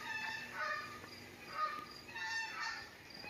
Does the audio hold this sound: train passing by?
no